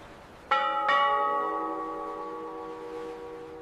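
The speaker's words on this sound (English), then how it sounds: "The bell rings once more." A church bell in a Puritan port town struck twice in quick succession, its clear ringing tone sustaining and slowly fading with no other sounds.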